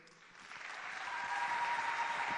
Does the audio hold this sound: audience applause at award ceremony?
yes